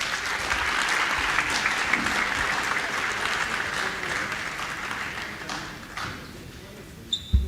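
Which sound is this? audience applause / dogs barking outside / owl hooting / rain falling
audience applause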